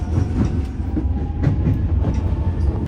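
A Tokyo subway train arriving at a station: a loud, steady low rumble with faint rhythmic clicks of wheels over rail joints, close by and continuous, with no voices.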